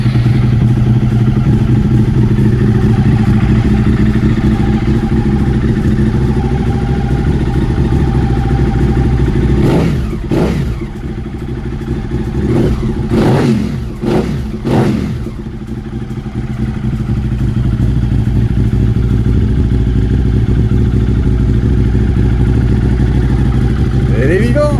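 A Suzuki SV650 fuel-injected motorcycle, set up for track use, runs with a steady low engine drone, broken midway by a few sharp clattering bursts as the engine catches and settles into a continuous idle, with a voice talking over it.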